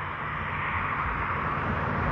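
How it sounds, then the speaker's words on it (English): Steady broadband roar of highway traffic running close by at an outdoor site with Aboriginal rock engravings, even and continuous with no distinct passes and no voices. "Excuse the noise, we're right next to a highway."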